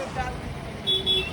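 Busy road traffic in Bhiwandi, a steady rumble of vehicles with short horn toots near the end, under faint background voices.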